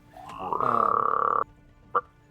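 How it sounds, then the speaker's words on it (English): Frogs and toads croaking in a swamp, one sustained, loud, raspy pulsing call lasting about a second, followed by a short single croak after a pause, with no talking. "You're hearing frogs and toads and who knows what else in this place."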